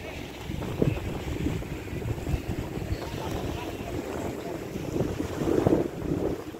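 Motorboat ride on the water toward a lagoon outlet, with steady engine and wind rumble, splashing waves against the hull and occasional voices over the noise.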